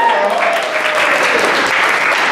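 Applause from a stand-up comedy audience in Chicago, dense steady clapping filling the room at full volume for a couple of seconds, with faint crowd noise mixed in.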